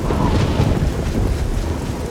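Heavy rain pours steadily in Oblivion, a loud dense hiss over a deep low rumble of thunder, continuous and close throughout.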